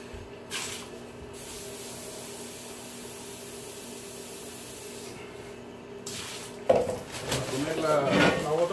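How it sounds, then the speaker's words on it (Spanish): Mortar being mixed for laying marble pieces: a steady hiss gives way to close, irregular scraping and grinding strokes near the end. "no tengo mezcla. Ahora vamos a preparar otro poquito para ponerla"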